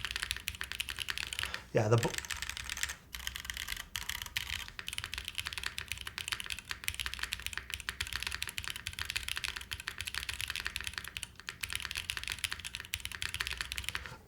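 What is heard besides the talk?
typing on a spring-mounted computer keyboard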